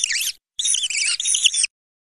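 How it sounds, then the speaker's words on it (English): Mouse squeaking in a series of high, thin chirping squeaks: one short burst followed by a longer run of rapid squeals, fairly close and clear with no other sound around them. "Mouse."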